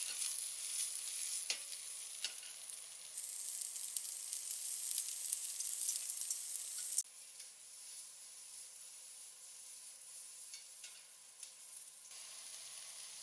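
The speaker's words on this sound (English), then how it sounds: "Cook them with medium heat for about 30 seconds." Vegetables sizzling in a hot skillet over medium heat while being stirred, a steady bright hiss with occasional scraping taps, fairly quiet and alone, easing slightly partway through.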